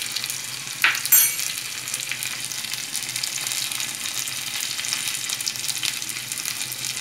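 Small shallots fry and sizzle in a pan for fish curry, a steady bright hiss running throughout with a couple of louder scraping stirs near the start, close and alone.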